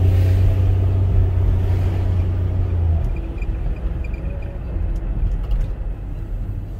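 A Ford pickup truck drives along a residential street with a steady low engine rumble and road noise, a strong low hum dropping away after a few seconds as the drive continues, no talking.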